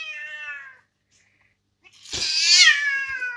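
A cat yowls twice from close by inside a closed carrier bag at a vet visit after declawing and spaying, a drawn-out cry, a short pause, then a louder, harsher wail, muffled.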